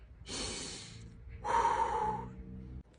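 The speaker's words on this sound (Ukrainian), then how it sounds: "Вдих робимо через ніс, а видих через рот, через букву У." Two breaths in a breathing exercise: a hissing inhale through the nose, then a longer, stronger exhale through the mouth with a hollow, whistling tone, close and quiet, with no speech.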